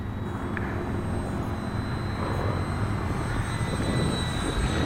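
An Eleven Hobby F8F radio-controlled model plane flies at about quarter throttle on its maiden flight at a flying field, giving a steady electric motor whine and airframe rush, loud and continuous with a faint high tone.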